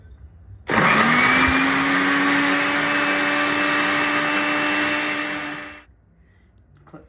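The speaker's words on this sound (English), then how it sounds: "Okay, so we're gonna blend that up." A kitchen blender whirs a honey and oil dressing, starting abruptly with a loud, steady motor whine that holds for about five seconds before winding down to quiet.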